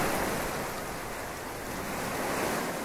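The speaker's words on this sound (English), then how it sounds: "Oh, sounds like he jumped into the water." A creature from the video game The Last Guardian plunges into water, leaving a steady, loud rush of splashing, surf-like water noise that fills the whole moment with no voices.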